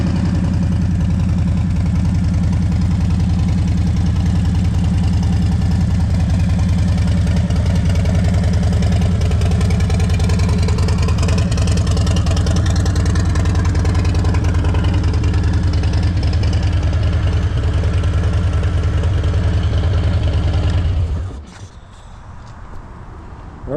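Harley-Davidson 2022 Street Bob 114 motorcycle engine running with a steady, loud low rumble and throbbing idle for about twenty seconds before cutting off abruptly into near silence.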